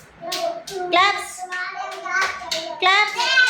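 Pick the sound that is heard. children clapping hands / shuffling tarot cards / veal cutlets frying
children clapping hands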